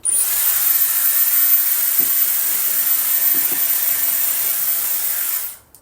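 A Dyson Airwrap running at full heat and full speed on hair, a loud, steady close-up hiss of rushing air that holds unbroken for over five seconds before cutting off.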